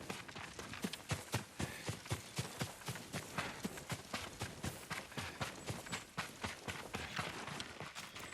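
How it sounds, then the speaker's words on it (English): Horse hooves in the video game Ghost of Tsushima, a steady, even clip-clop of a horse at a walking or trotting pace that continues throughout, with some background ambience. "Yuriko's horse."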